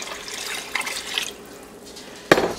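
White vinegar poured into a pot of water to make a zucchini dill pickle brine, a soft trickling splash that ends in a brief, sharper clink.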